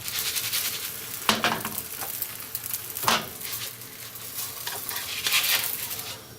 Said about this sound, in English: put the roti on the pan just like so